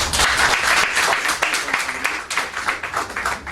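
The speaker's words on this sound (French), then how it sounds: "Je vous demande puis d'acclamer très fort" Crowd applause and cheering at a candidacy declaration event, a dense steady wash of clapping lasting throughout, with voices mixed in.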